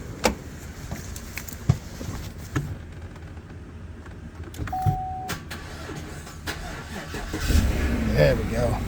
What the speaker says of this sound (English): So let me see if she'll fire up now.